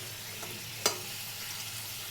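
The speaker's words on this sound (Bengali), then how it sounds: "আলুটাও হয়ে গেছে ভাজা" Potatoes frying in a pan give a low, steady sizzle, broken once by a sharp utensil tap.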